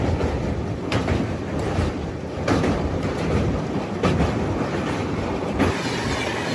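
A train rolling past close by on an Indian railway line, with a continuous heavy rumble, rhythmic clickety-clack of wheels over rail joints and occasional metallic squeals.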